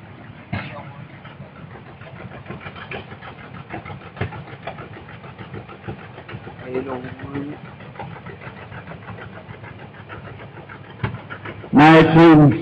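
A John Deere G vintage tractor runs in a parade, its engine chugging steadily at moderate distance, with a louder burst near the end and an announcer's voice over it.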